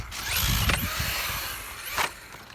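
Traxxas Slash 2WD brushless RC car pushing into a snow pile, its motor whining with scraping crunches and a couple of sharp bursts as the wheels dig in.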